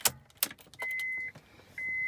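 Switching on a car's power brings a couple of short clicks followed by a steady high electronic chime tone that stops briefly and resumes, close and fairly quiet.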